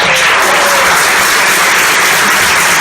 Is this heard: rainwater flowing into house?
no